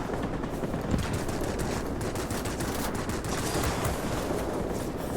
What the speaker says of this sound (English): Freaking anti-aircraft is going to tear me up